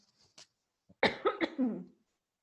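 A single harsh cough close to the microphone, preceded by a couple of faint breathy sounds, then silence.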